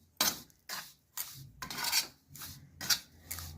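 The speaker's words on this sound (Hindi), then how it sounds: "इसे भी हम अच्छे से मिक्स करेंगे।" A spoon scrapes and stirs a thick green moong laddu mixture with ghee in a pan, a repeated rhythmic rasping about every half second, close and fairly quiet with no voices.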